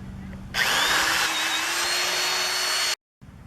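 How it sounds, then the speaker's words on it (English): A power drill bores holes through a Halloween skull prop, whirring steadily for a couple of seconds before cutting off abruptly. "So we finished drilling the holes through this"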